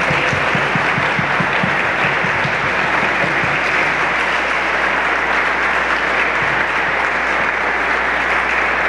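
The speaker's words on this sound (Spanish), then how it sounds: "Vamos a darle un fuerte aplauso" A large audience bursts into loud, sustained applause after a philosophy conference talk, a dense wash of clapping with some louder individual claps early on, and no voices over it.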